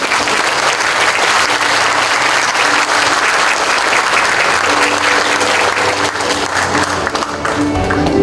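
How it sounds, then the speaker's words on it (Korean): Loud, sustained applause from a ceremony audience at Chung-Ang University's 99th anniversary celebration, steady clapping filling the hall without letup for several seconds. "큰 박수 부탁드리겠습니다"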